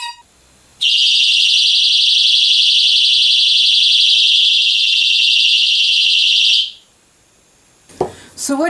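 A personal safety alarm sounds a loud, piercing, steady electronic siren tone for about six seconds, then cuts off abruptly.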